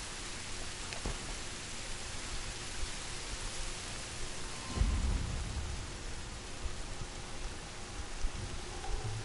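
Steady rain and rolling thunder in the stealth video game Horizon, with a broad wash of rainfall throughout and a low thunder rumble swelling near the middle, no voices.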